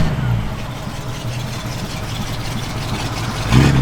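A 1929 Ford Woody Wagon engine idles with a low, even rumble close by, rising slightly in level at the very end.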